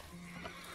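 A horse neigh from a Magic: The Gathering video game card, a brief faint whinny with a slight clip-clop quality, heard alone.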